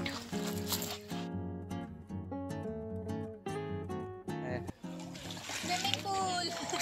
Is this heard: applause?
no